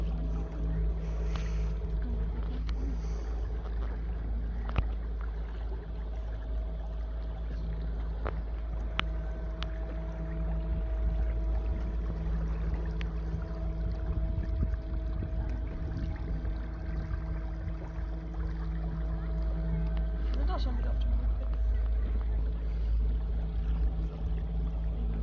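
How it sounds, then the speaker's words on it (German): A boat comes toward the listener across the water, a steady low motor rumble and wash holding through the whole passage, fairly loud and unbroken, with no voices. "da kommt uns ein Boot entgegen, Schatzi."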